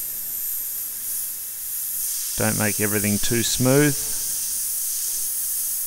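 A steady airbrush hiss runs through the whole clip as paint is sprayed onto a skull, while a person speaks briefly over it.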